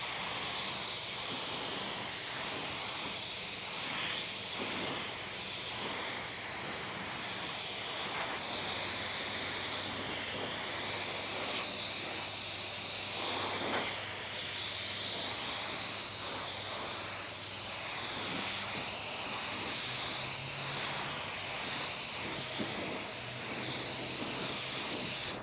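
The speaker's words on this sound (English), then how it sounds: "when you're spraying metallic finishes" A spray gun sprays metallic car paint, hissing in long continuous bursts, the bright airy spray rising and pausing repeatedly at close range with no talking.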